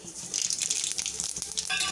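Mustard seeds and cumin sizzle in hot oil, a dense, steady crackling hiss with bright spattering pops throughout, close and fairly loud.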